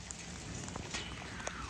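Light rain falls just outside a shrine courtyard where pigeons are kept, a faint steady patter with scattered soft drops tapping on surfaces.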